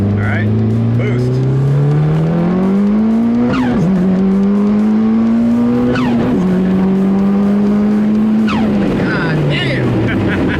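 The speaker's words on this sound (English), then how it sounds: "right about 3 grand is when the turbo kicks in" A Mitsubishi Evo 8 accelerating hard in second gear with turbo boost: a loud, close engine roar climbs steadily in pitch, broken by brief dips at each gear change, and continues throughout with no pause.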